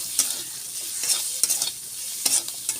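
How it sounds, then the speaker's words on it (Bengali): Dried fish with garlic, turmeric and black pepper fries in a pan, giving a steady close hiss broken by several sharp stirring scrapes and louder crackles, with no talking. "এবার দিয়ে এটাকে ভাজা ভাজা করব।"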